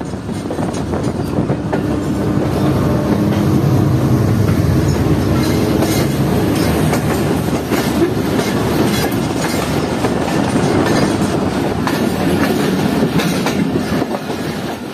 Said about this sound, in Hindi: कराची और लाहौर के दरमियान चलने वाली 41 अप कराकरम एक्सप्रेस से, जिसके लीड पर लगा हुआ था GU40